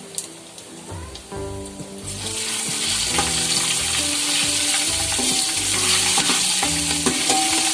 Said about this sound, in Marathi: चांगला हा मसाला आपल्याला परतून घ्यायचा आहे.